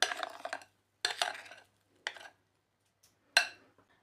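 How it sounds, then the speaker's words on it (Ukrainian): Dough for a quick homemade apple pie scraped and tipped from a bowl over apples on a baking tray, giving four separate clattering, scraping bursts with short silent gaps between them and no voices. "Достаємо наше деко з яблучками і пересипаємо зверху"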